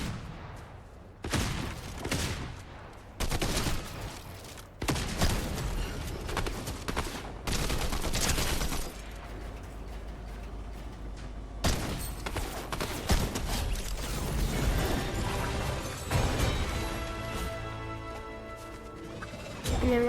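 Gunfire during a Fortnite battle: repeated bursts of shots and impacts in uneven clusters, with crashes and busy game effects between them, loud and without talk.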